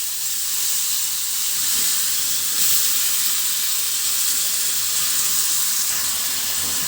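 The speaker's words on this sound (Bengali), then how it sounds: "একই তেলের ভিতরে দিয়ে দিচ্ছি কেটে রাখা আলুগুলো।" Cut potatoes sizzling in hot oil for a Bengali fish bharta, a steady broadband hiss and crackle of frying that holds evenly throughout, close and fairly loud with no voices.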